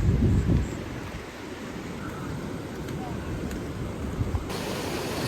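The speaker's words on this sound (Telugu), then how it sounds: "ఇక చూడు వాటర్ ఫాల్" Steady, dense rushing water roars continuously, like a waterfall heard from close by at Shamirpet lake, with a louder gust of noise at the very start.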